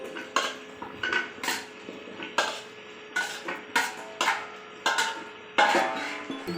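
Fish curry with potatoes and lotus root stirred in a pot, the ladle knocking and scraping against the metal in about ten separate close clinks, each with a short ringing tail, no voices.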